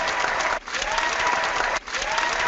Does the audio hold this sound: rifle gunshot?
no